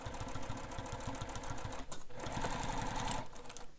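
A sewing machine stitches along the seam allowance of a fabric bag with a fast, steady mechanical whirr and rapid needle clatter, briefly pausing before running again, close and loud.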